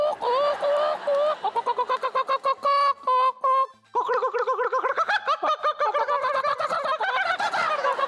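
A contestant on a Telugu TV game show imitates a chicken with their voice, giving a string of bright clucking and cackling bursts with short pauses, close and loud.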